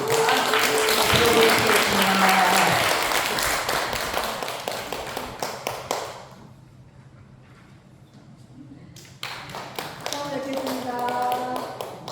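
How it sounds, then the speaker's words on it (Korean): An audience at a memorial ceremony applauds in a dense burst of clapping. It dies away into a quiet pause, then a second round of applause starts up. "나오시면 큰 박수로 경례를 해주시기 바랍니다"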